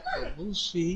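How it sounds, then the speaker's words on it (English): A dog yips and whimpers close by in a home during a sim racing broadcast, a few short high barks mixed in with someone talking over them. "Sorry about the dog."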